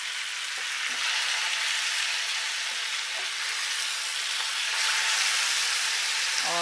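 Fish sizzles steadily in a hot pan with spices, a dense continuous fry with small pops and crackles, close and even throughout.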